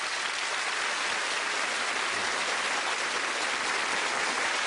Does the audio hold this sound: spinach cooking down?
no